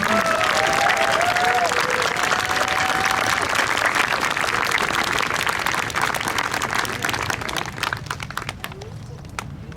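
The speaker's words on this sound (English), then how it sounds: "Let's give one more round of applause to the class of" Sustained applause and cheering from the family audience at a fifth grade closing ceremony for the class of 2028, a dense crowd of clapping hands running steadily with some overlapping voices and calls, tapering slightly near the end.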